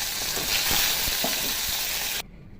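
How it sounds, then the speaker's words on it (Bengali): Pomfret fish frying in hot oil, a dense crackling sizzle with a few sharper pops that cuts off abruptly near the end. "এই তেলেই বাকি মাছগুলো ভেজে নেবো"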